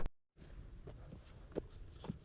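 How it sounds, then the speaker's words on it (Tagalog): Footsteps crunch along an off-road hiking trail near Panoypoy Cove in Mariveles, Bataan. The quiet, irregular steps stand out at close range over a faint outdoor background. "Lakad na lang muna ako."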